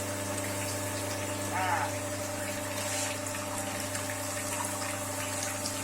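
A cold press oil extractor machine pressing sesame seeds hums with a steady motorized drone and constant tonal whine, while oil trickles and a voice speaks briefly over the machinery.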